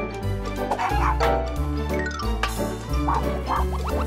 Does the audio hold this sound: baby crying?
no